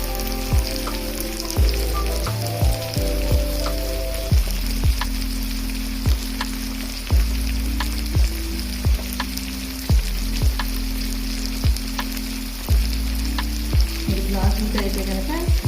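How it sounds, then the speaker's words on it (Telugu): Tomatoes for pickle fry in oil over a flame with a loud, dense, continuous sizzle and crackle, while a regular stirring knock repeats about once a second throughout. "మంట మీద టమాటాలు మొత్తం కూడా బాగా నూనెలో వేయించుకుందాము."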